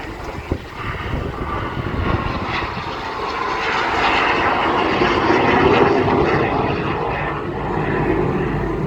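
A BAC Strikemaster jet performing an airshow display at Eastbourne, a loud sustained engine roar that swells and stays heavy as the aircraft passes, with no speech.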